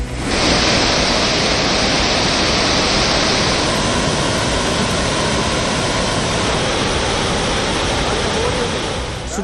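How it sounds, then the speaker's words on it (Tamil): Floodwater roars over Thirparappu waterfall in Kanyakumari district, a dense, loud, unbroken rush of white noise that holds steady throughout with no voices. "கன்னியாகுமரி மாவட்டம் திற்பரப்பு அருவியில் ஆர்ப்பரிக்கும் வெள்ளம்."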